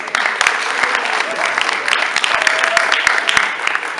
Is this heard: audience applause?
yes